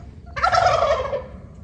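Wild turkeys let out a single loud, rattling gobble, close and clear, about a second long, with no voices over it.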